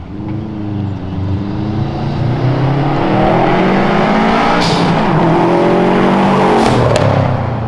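A Subaru STI engine roars loudly as it revs and accelerates, with a raspy aftermarket exhaust note with two resonators and a catalytic converter, and sharp crackling backfire pops near the end.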